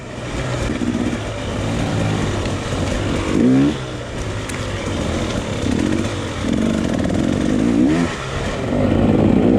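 A dirt bike engine labors and revs through a hard enduro race, steady loud drone with repeated throttle surges and short bursts of acceleration, no talk.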